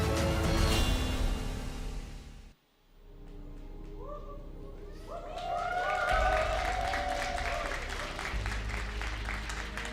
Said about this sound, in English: Nice cheer from our very packed audience tonight here at Yongsan in Seoul, South Korea.